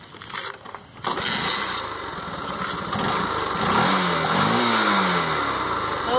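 A Honda Shine motorcycle engine idles with its air filter fitted, a steady close mechanical thrum after a few brief clicks, rising slightly in level toward the end with no speech.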